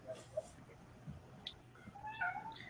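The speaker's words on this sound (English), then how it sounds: "Hear the cat." A house cat meows faintly at a distance, with a few thin cries near the end over low background noise in a quiet room.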